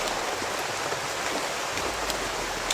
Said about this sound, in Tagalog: kahit umuulan po